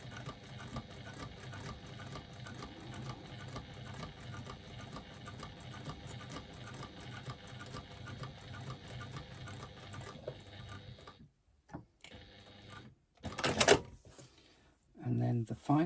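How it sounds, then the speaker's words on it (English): A sewing machine runs steadily while top stitching wristlet card slots close to the edge, a continuous mechanical hum for about ten seconds, then it stops and a few short handling clatters follow. "I'm top stitching here at 1/8 of an inch seam allowance, so it's nice and close to the edge."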